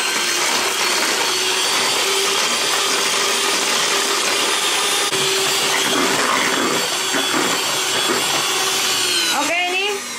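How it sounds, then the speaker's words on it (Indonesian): Electric mixer beating bingka cake batter, a loud steady whirring drone that runs throughout and cuts off near the end, with speech at the close. "Kita mixer kurang dari 15 atau paling cepatnya 10 menit sampai betul-betul adonannya mengembang, putih pucat berjejak."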